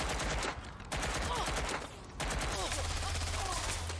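Rapid automatic fire from a weapon with extended magazines in Watch Dogs Legion, dense continuous bursts broken by two short pauses, loud and close, with a voice talking over it.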